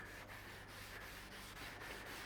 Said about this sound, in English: clean up the grill and give it a good scrubbing